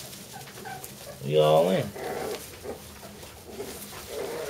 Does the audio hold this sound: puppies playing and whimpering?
yes